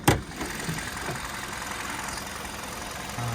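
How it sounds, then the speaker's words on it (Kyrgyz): A car engine idles steadily under the open hood of a vehicle fitted with fifth-generation gas equipment, a low even hum after a short opening thump, with no extra noises. "Мотор иштеши жым, лишний звук жок"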